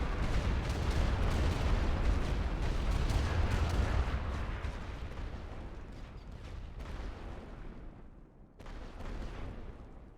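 An artillery barrage in The Great War Western Front, heavy rumbling booms rolling together into a dense roar that slowly fades, then a fresh burst near the end, with no talking over it.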